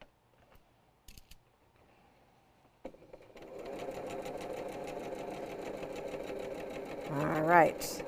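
A sewing machine runs a quilt seam on a panel quilt in one steady, close run after a few quiet clicks and handling noises, ending with a brief rising whir.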